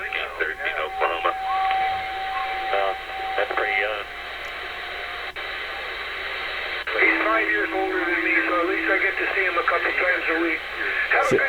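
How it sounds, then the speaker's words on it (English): Steady hiss from a Teaberry Stalker XV CB radio on sideband, a constant noisy wash under garbled sideband voices and heterodyne tones coming through the receiver. "on sideband you hear a lot of hiss coming through"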